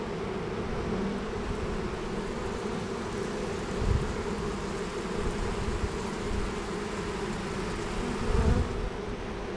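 Honeybees buzzing steadily as they march into a hive after their queen, a dense, even drone close by with no voices.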